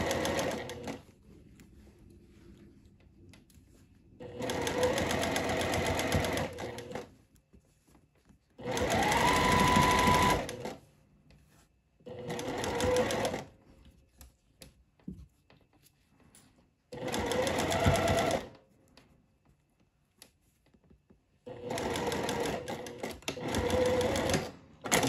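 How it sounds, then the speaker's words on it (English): A domestic sewing machine runs in repeated bursts of steady buzzing stitching, pausing between runs, while sewing a gathered seam on a floral sundress with fully enclosed seams; faint handling noises fill the quiet gaps. "I like sewing with the gathers up so that if I need to, I can adjust them as I go."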